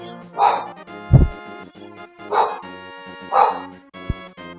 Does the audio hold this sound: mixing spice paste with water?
no